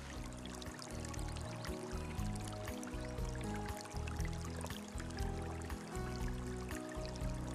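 River water in the Ávila countryside, a stream just beginning to gain flow near a footbridge, rushing and splashing steadily and fairly loud throughout with no pauses or talk.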